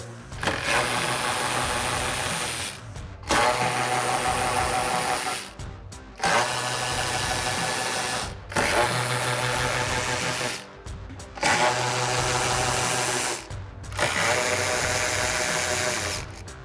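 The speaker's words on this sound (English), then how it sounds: "So now we're gonna remove all the 10 millimeter nuts from our mounting studs with our 10 millimeter socket." A 10 mm ratchet socket backing nuts off the mounting studs of a 2018-2020 Ford F-150 front lower valance: loud, continuous rapid ratcheting bursts of about two to three seconds each, separated by short pauses, close up.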